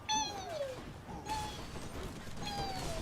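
A cat meows repeatedly in short, high, downward-sliding calls, three distinct meows spread over a few seconds against a faint background hum.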